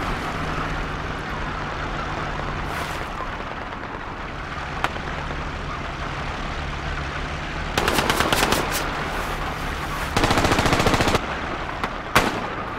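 Bursts of machine gun fire crackle in a war video game amid a tank battle, several rapid volleys of mid-distance shots over a steady rumbling background of engines and battlefield ambience.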